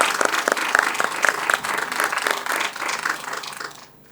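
An audience claps for Dr. Girija at a science conference on plastics and chemicals, a rippling round of applause from a moderate crowd that fades out near the end.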